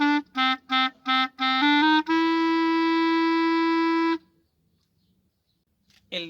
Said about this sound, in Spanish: Este instrumento se llama clarinete y suena